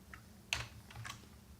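Keys clatter on a computer keyboard as CSS code is typed, with a few quick taps and one sharper keystroke, close but faint over a quiet background hum.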